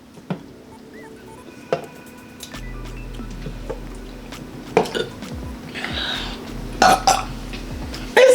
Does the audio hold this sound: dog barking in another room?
no